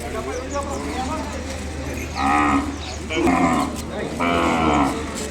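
Ongole calves at a busy cattle market low in three drawn-out moos, loud and near, over a steady hum of crowd voices and background chatter.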